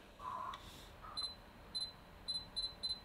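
A few short, high electronic autofocus confirmation beeps from a Sony a6400 camera, single and in quick pairs, sound over a faint background hiss.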